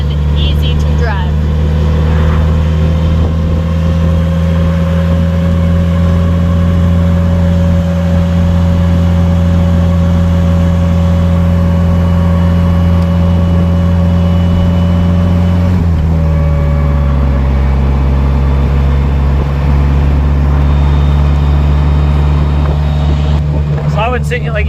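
A Polaris Slingshot R three-wheeler drives with a steady loud engine drone and wind noise, with a gear change about two-thirds through bringing the pitch down.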